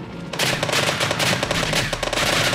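Sustained machine gun fire in a World War II battle mod of Minecraft, loud, dense rapid bursts starting after a brief quieter lead-in and running continuously to the end, with no talk over it.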